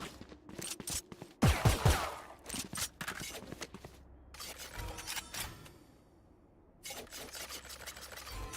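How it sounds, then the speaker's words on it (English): Gunfire during a Valorant match on the map Ascent, several bursts and sharp shots mixed with footsteps and rasping game effects, fairly loud and irregular with brief lulls. "shots being fired all across Ascent"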